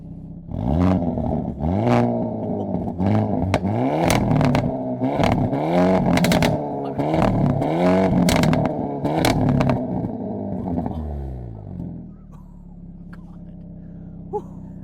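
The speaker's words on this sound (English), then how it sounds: "let's go ahead and fire it up so you guys can hear what that motor sounds like" A 2022 Hyundai Elantra N engine revs repeatedly through its exhaust, rising and falling in strong, throaty pulls for about eleven seconds, then settles to a low idle rumble.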